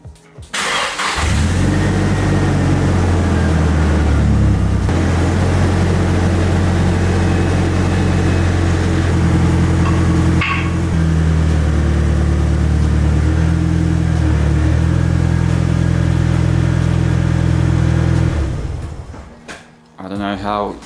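A Nissan S15 Silvia on freshly fitted coilovers idles and rolls down off blocks, a loud, steady close engine drone that holds for most of the time and then cuts off near the end.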